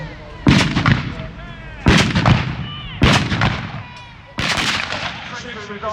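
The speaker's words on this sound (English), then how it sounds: "Rolling volley from the gunners." A rolling volley of cannon and musket fire at a historical battle reenactment, four loud booming blasts spaced a second or two apart, each trailing into rumbling echo, with faint voices in the background.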